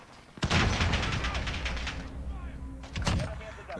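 Gunfire in a Modern Warfare video game, a sudden loud burst followed by a dense rattle of shots, then a second sharp crack near the end, with a player's voice partly over it.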